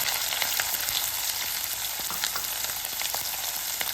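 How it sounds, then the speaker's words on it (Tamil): Onions fry in a pan with cumin seeds for hotel-style tomato rice, a constant close sizzling crackle with small pops scattered through it. "வெங்காயம் வதங்கட்டும்"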